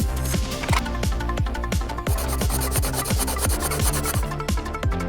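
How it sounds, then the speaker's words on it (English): An aluminum can is skimmed down with a rapid run of close, rhythmic rasping strokes, a scraping, filing-like rub repeated evenly throughout. "Just skim a little off the top."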